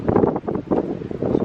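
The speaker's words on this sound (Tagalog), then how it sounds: "Ang lakas ng hangin, no?" Strong wind gusting outdoors on a snowy winter day, a steady loud rush with rustling bursts rising and falling throughout, muffled against the microphone.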